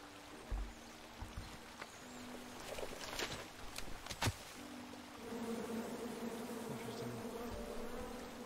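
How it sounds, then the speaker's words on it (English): Angry bees buzzing from a tree in the fantasy adventure game King's Quest, a steady insect drone with water flowing nearby and a few sharp clicks in the middle. "And then you chop down the tree full of angry bees?"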